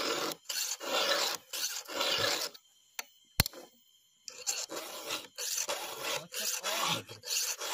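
Wood is rubbed with a file in quick back-and-forth rasping strokes, close and fairly loud, with a short pause and a sharp click midway before the filing resumes.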